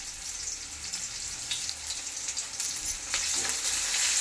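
Onions frying with a few curry leaves in oil for fish sambar, a steady close sizzle with faint stirring scrapes throughout, no voices.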